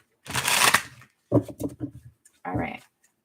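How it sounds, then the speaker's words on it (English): Tarot cards are riffled and shuffled in three quick bursts, each a short flurry of papery flapping with brief pauses between them. "All right, this will be our last shuffle."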